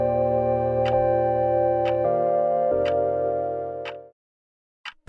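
A bedside clock ticks at a slow, even pace, each faint tick standing out over a steady sustained background drone that fades away near the end.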